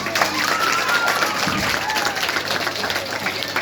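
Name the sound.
audience clapping after fire lit without matchstick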